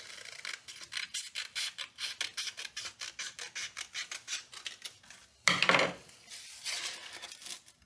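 Sandpaper cut to size with scissors during an LS2 short block build, heard as a quick series of close, rhythmic rasping snips followed by a louder crinkling burst as the sheet is handled.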